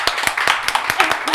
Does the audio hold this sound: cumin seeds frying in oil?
no